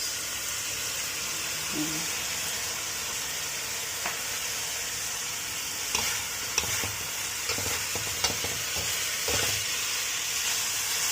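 Bitter gourd sautéing in a pan as fish sauce goes in, giving a steady, fairly quiet sizzle with a few scattered clinks and stirring knocks and no talk.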